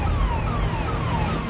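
An ambulance siren wails steadily and continuously, stuck in a long traffic jam on a rain-flooded Delhi road with auto-rickshaws trapped around it. Its falling, repeating tones sound fairly loud over a constant rumble of idling traffic.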